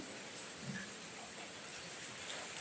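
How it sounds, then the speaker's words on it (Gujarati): Steady heavy stormy rain hisses without a break, a soft, even wash of drops falling on surfaces, fairly faint with no voices. "વરસાદ જામ્યો ફૂલ જોરદાર વરસાદ"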